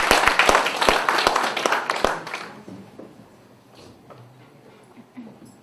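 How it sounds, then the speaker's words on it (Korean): A brief patter of scattered clapping from a small group at a volunteer group's anniversary ceremony, dying away after about two seconds into quiet room noise. "큰 박수 부탁드리겠습니다"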